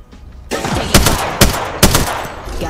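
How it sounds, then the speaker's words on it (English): Gunfire in the video game Apex Legends: three sharp, loud shots crack at roughly half-second intervals over a continuous rumble of in-game noise. "Someone just shot at me, bro."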